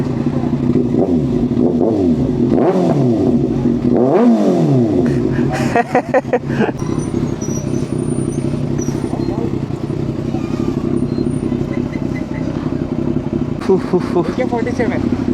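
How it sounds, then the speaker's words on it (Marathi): A vehicle engine revs up and down repeatedly at close range, loud and throaty, with rattling bursts and voices talking over it. "fighter jet engine same to same तसा आवाज आहे या गाडीचा"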